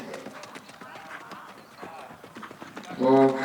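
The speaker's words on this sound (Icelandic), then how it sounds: "hér kemur fyrst í hesturinn" Hooves of an Icelandic horse clip-clop in a quick, even rhythm at a horse breeding show, fairly faint, while an announcer talks over them.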